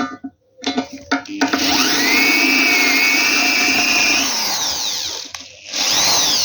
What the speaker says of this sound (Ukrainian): як треба сверлити